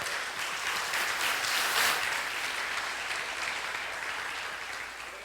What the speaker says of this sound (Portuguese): pode aplaudir ao Senhor mesmo, irmão.